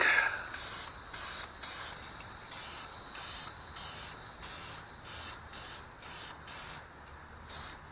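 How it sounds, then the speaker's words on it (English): Short bursts of aerosol spray paint hiss onto car brake calipers in an uneven rhythm, close by, separated by brief pauses, with quiet background and no speech. "Spray it on lightly."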